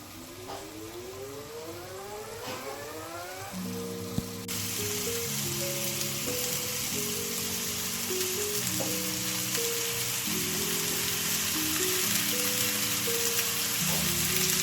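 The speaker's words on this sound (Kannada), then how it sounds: "ನೀಟಾಗಿ ಮಾವಿನಕಾಯಿನ ಹಾಕೊಂಡು ಫ್ರೈ ಮಾಡ್ಕೊಳ್ಳಿ, ಡೀಪ್ ಫ್ರೈ ಮಾಡ್ಕೊಳ್ಳಿ." Raw mango pieces deep frying in oil in a pan give a loud, steady sizzling hiss that starts a few seconds in and continues to the end, with background music playing throughout.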